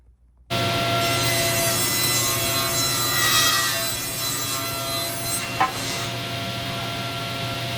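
A hand saw cutting through a wooden board, a steady continuous rasping stroke that runs loud and close for several seconds without talk.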